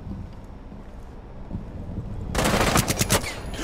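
Automatic gunfire in Rainbow Six Siege breaks out after a quiet stretch of game ambience, a loud rapid burst of close shots continuing to the end.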